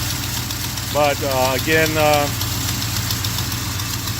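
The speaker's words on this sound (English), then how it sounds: "the engine's liking that new coil, but the EFI still needs a tune." A Yamaha Blaster ATV engine fitted with a new MSD coil idles steadily with a low, even drone, while someone speaks briefly over it.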